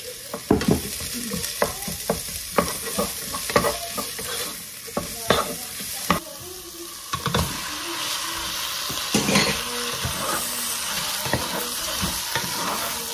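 Onion, ginger and garlic sautéing in a hot pan, a steady loud sizzle and frying hiss with repeated scraping and stirring strokes of a utensil, close and continuous with no talking.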